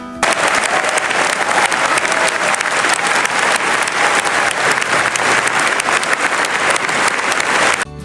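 A concert hall audience applauds the 86-year-old conductor Daniel Barenboim at the end of a performance in Berlin, a loud, dense, unbroken wash of clapping from a large crowd that stops abruptly near the end.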